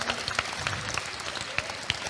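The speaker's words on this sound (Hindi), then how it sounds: "एक बार तालियां हो जाने दीजिए उसके लिए।" Brief scattered clapping from a school session audience after a student's answer, light and uneven with a few sharp individual claps standing out.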